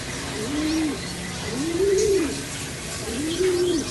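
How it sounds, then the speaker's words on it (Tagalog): Three soft, low pigeon coos, evenly spaced, stand out against steady outdoor background noise. "Sobrang gandang ibon."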